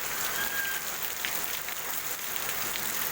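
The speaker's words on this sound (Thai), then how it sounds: "ฝนตกหนักเลยครับ" Heavy rain falling in a steady, dense hiss with scattered drop patter, loud and continuous throughout, with no talk over it.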